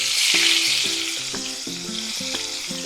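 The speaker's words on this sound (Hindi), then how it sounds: "तेज आंच पर ही इसको फ्राई करना है।" Sliced onion strips frying in very hot oil over a high flame, a loud steady close sizzle with a few utensil clinks over the sizzle and no voices.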